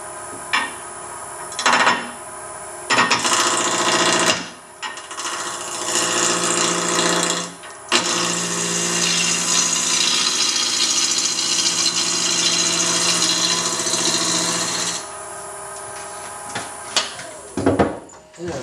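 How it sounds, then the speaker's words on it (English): A wood lathe spins a newspaper pot maker blank while a roughing gouge cuts it, giving a loud steady whirring hum in bursts broken by short pauses. "we'll turn it down, turn on the lathe, and get this thing turned down the sides here"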